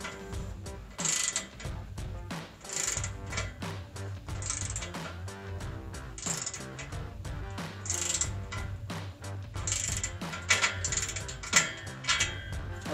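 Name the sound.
tightening exhaust clamp with 15 mm socket wrench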